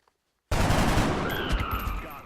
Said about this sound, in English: Now I'm going to try and shoot him.